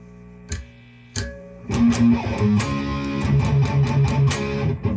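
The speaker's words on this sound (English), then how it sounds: "Here's some guitar noise rolling up." Buzzing hum and noise from a 5150 guitar amplifier with high gain, a few sharp hits, then dense distorted strums and scratchy string noise building over the steady drone.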